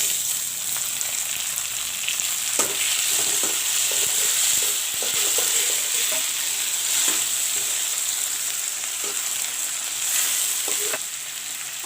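Chopped tomatoes and onions frying together in a pan for plain masoor dal: a loud, continuous sizzle runs throughout, with irregular scrapes and knocks as a spoon stirs the mixture, all close and without voices.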